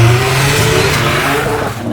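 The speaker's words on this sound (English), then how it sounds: "The thing that keeps me going is the 20B Bridgeport sound, the buzz, when the car shakes" A 1000HP Mazda RX7 with a 20B Bridgeport rotary engine revs loud and close, a harsh buzzing drone that holds high, then eases slightly near the end.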